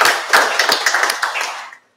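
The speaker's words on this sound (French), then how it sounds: "Remerciements particuliers aux speakers qui ont fait un effort important et qui ont fait des présentations de qualité. Donc, les applaudir." A conference audience at a cloud technology event breaks into warm applause for the speakers, a dense burst of many hands clapping that swells, holds steady, then quickly fades to silence.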